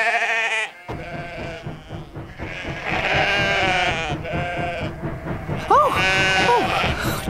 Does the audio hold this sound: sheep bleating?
yes